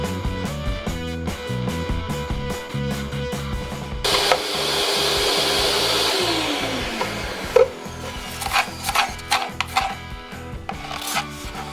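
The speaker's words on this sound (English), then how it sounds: "now I can go in with the radius cutter and trim the profile more accurately" Radius cutter trimming the profile of a foam pod on a model RC surfer, a steady broadband cutting rasp for several seconds amid quieter scraping and a few sharp taps before and after.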